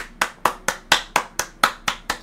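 Hands clapping nine times in a steady, even rhythm, crisp and close, with no talking.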